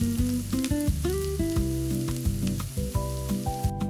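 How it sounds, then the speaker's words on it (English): Garlic sautés in a skillet alongside golden onion, giving a close, steady sizzle with a few scraping stirs of a spatula and no voices. "Now the garlic goes into the skillet with the golden onion. Carefully stir with the spatula."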